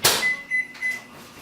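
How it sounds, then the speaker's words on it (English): A microwave oven runs in a home kitchen during pancake prep, giving a short, close, steady electric hum with a thin tonal whine that comes and goes, with no talking. "I'm going to microwave it for like, I don't know, maybe 45 seconds."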